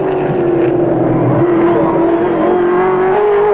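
Race cars roar away at the green flag of the 1983 Bathurst 1000, a loud, steady engine drone holding one sustained pitch throughout with no pauses.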